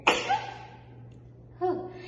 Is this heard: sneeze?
yes